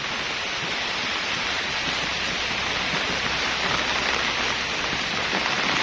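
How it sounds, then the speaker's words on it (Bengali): Heavy rain pouring down on a banana garden where water is pooling, a steady, loud wash of hiss with no breaks and no one speaking. "প্রচণ্ড বৃষ্টিতে আমার বাগানে পানি জমে গেছে"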